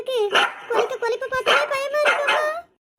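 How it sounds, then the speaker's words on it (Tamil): A dog barks close by in a rapid run of yelping, whining barks, with a voice-like tone, before the sound cuts off at the end. "ஏதோ நாய் குலைச்ச சவுண்டு வேற கேக்கு"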